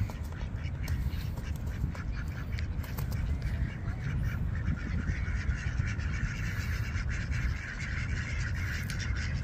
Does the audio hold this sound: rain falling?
no